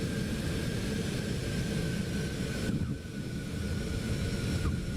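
A Cessna Citation C750 business jet in X-Plane 12 roars steadily and loudly on a landing approach, a continuous broadband engine and wind rush with a brief dip midway and no talking.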